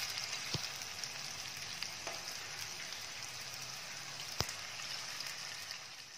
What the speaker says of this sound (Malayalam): ശേഷം ഓരോ സ്പൂണായിട്ട് നല്ലോണം ചൂടായ എണ്ണയിലേക്ക് ഒഴിച്ചു കൊടുക്കുക.